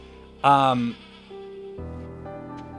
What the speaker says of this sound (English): Are these goats? Yeah, goats.